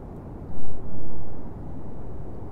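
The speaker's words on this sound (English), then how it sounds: "And second stage engine ignition." A rocket's second-stage engine ignites in a video game: a deep, heavy rumbling roar swells suddenly, dips for a moment, then settles into a steady, powerful low drone.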